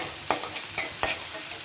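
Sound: stirring and lightly frying onions in a pan

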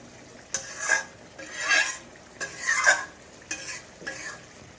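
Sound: tomato and onion frying with spices in a pan

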